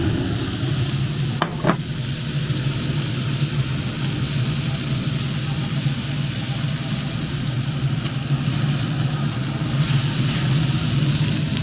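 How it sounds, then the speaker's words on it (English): Stir-fry sears in a pan on a Pit Boss grill, a constant dense sizzle with a low steady hum underneath and a couple of faint clicks. "Look at all that pan searing."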